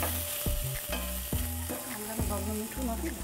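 Red bean curry with chopped green chili sizzles in a pan while a spoon stirs it, scraping and knocking against the pan in regular strokes over a soft background hiss.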